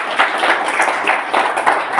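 Church congregation clapping hands together in praise during a Spanish-language service, a dense, loud, steady patter of many hands with a slight pulsing rhythm.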